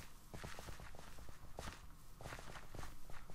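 Rapid running footsteps in Minecraft through the Old Forest, a dense, steady patter of steps, loud and close, continuing without pause and with no talk.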